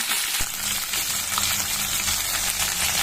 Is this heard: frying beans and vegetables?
yes